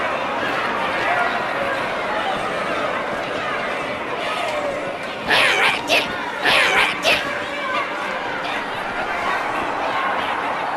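A crowd chatters and murmurs in a Halo 2 video game cutscene as a steady background bed, with a few brief louder bursts of cheering or motion partway through.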